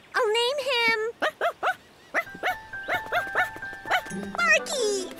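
A cartoon puppy whimpers in high, wavering cries, then gives a rapid run of short yips and barks, close and clear amid bright music.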